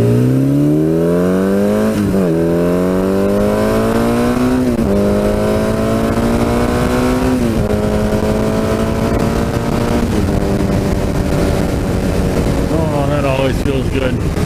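Suzuki GS850 motorcycle accelerating hard on an open road, its engine note climbing through several rising gear pulls with brief dips at each shift, loud and close over steady wind noise.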